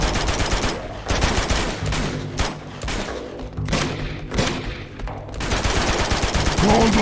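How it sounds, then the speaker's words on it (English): Rapid gunfire from a firefight against enemies in Uncharted 2: Among Thieves, with dense, loud bursts of automatic shots that run almost continuously and pause only briefly between volleys. "Just keep shooting!"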